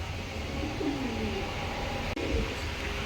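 A pair of racing pigeons gives soft, low rolling coos, two or three near calls over a steady background hum.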